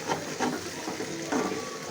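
Potatoes for aloo bhaji stir-fried in a pan, with a soft steady sizzle and periodic scraping strokes of a spatula, close and moderately quiet, no talking.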